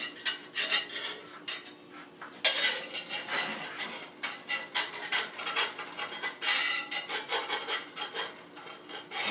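Metal spatula scraping and flipping pancakes in a stainless steel pan, a busy run of rasping scrapes and clinks in irregular bursts, close and loud with no voices.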